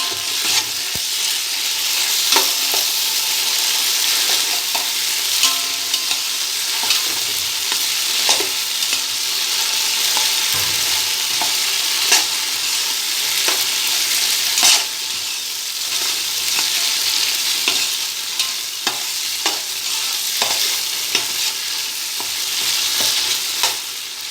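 Sliced onions fry with ginger garlic paste in a pan for chicken biryani, giving a steady, loud sizzle throughout, punctuated by regular scraping clicks as the mixture is stirred, with no voices.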